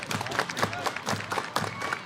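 A small crowd at a Portland Pickles baseball game claps along in a steady rhythmic beat, moderately distant, with faint crowd noise around it.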